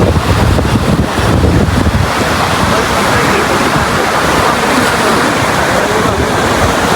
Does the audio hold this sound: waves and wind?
yes